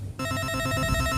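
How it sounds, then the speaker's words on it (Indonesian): A telephone rings in a Minang comedy scene, a steady repeating electronic ring that starts abruptly after a brief quiet moment and continues loud and close with no talking over it. "orang kampung pula nelpon di Mojo"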